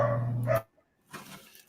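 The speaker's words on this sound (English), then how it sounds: "Whose dog's that?" A dog gives a short bark, then a fainter second yelp after a brief pause, heard close through a live call.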